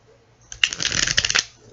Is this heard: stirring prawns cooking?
no